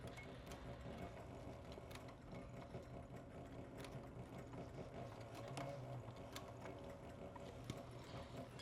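Sewing machine stitching the seam of a leather dopp kit in dark thread, a steady, close, rapid mechanical chatter of the needle running continuously at a quiet level with no talk.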